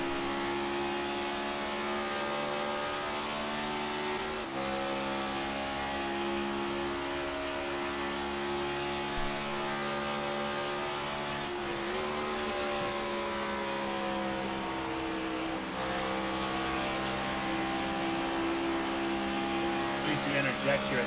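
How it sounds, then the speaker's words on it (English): A race car engine revs continuously on track during an HTL Cup Series race, the Concord Foods 200, its harmonic drone climbing and dropping as the driver lifts off and gets back on the throttle. "you can hear the revs, how high up they get here"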